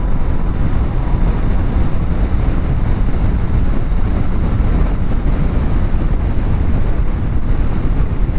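BMW K1600 bagger motorcycle from 2017, a six-cylinder touring bike, accelerating hard in sixth gear from around 110 km/h while overtaking, its steady engine drone heavily buffeted by loud wind roar throughout.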